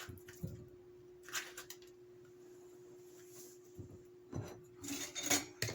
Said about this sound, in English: Now I'll start scooping the avocado out of the shell.